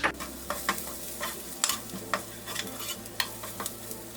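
Red chilli powder, turmeric and fenugreek powder being stirred together in a frying pan for a Kerala fish curry, with repeated scraping strokes over a soft sizzle and a low steady hum underneath.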